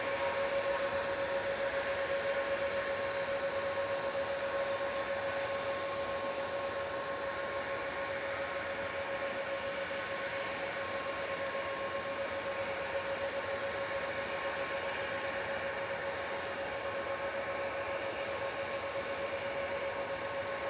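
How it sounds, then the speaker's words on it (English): A jet airliner departing from Manchester Airport heard from a distance, a steady broad engine roar with a sustained whining tone that holds evenly for the whole stretch, with no talking. "Right now, 4027 to Alicante, departing in the background."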